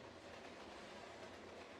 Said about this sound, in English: me and the sound of the train in the background